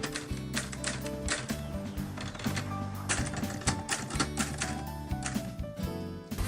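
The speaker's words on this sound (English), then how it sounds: "his wife is typing out on an old typewriter" An old typewriter typed on by a woman at home: rapid, fairly loud clacking keystrokes in an uneven running rhythm, with occasional heavier strikes, and no talk.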